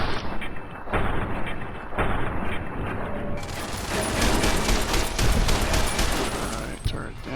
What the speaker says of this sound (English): Let's see if we can shoot them.